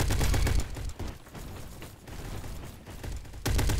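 Rapid gunfire bursts from a Roblox video game, dense automatic-sounding shots that are loud at the start, ease off in the middle, and return strongly at the end.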